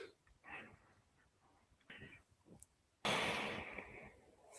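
Soft, close breathing during a qigong exercise: a few gentle breaths in and out, followed by a longer, louder rushing exhale.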